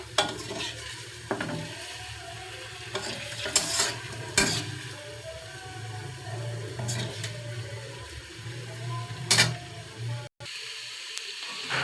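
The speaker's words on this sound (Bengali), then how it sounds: "যে ছোট ছোট করে আলু কেটে ভেজে নিচ্ছি" Small cut potato pieces fry in hot oil in a kadai, a steady sizzle with occasional stirring scrapes and clinks, close and fairly loud with no talking.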